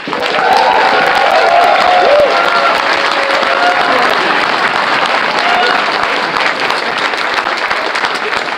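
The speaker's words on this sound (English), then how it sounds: "can I please get a round of applause for our AV team for this amazing setup?" Sustained round of applause from a convention opening-ceremony crowd at HarmonyCon, loud dense clapping with scattered cheers that stays strong throughout and eases slightly toward the end.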